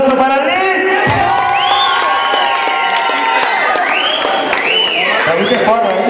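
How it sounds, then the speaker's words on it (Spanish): An audience at a Salón Olímpico music event applauds and cheers in a loud, sustained burst, with shouts and rising whoops layered over the clapping. "Un aplauso para Liz."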